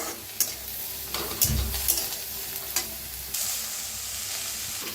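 Seeds roasting in a hot kadhai with a soft continuous sizzle, broken by a few scraping stirs and light knocks.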